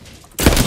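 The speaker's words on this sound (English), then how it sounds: "Shots fired at me." Gunfire in the Apex Legends video game: a quiet lead-in, then a sudden loud burst of rapid shots that runs on steadily to the end.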